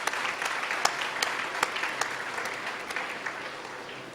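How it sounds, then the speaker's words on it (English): Sustained audience applause at a valediction ceremony for the 15th Futura 2013, dense steady clapping from a large crowd with a few sharper individual claps standing out, continuous throughout. "let us give all the people here a round of applause for the wonderful work"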